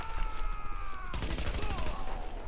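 Machine gun fire in The Division rattles in rapid bursts, close and fairly loud, with someone talking over it.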